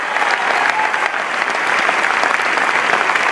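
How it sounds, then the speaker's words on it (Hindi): Loud, dense applause from a large audience at an Amway business gathering, a continuous roar of clapping filling the hall throughout. "आपकी डायमेंशन के लिए तालियां बजाइए"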